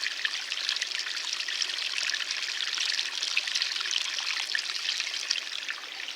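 Water from a village pipe trickles and splashes in a steady, soft hiss that runs unbroken throughout, close by and alone.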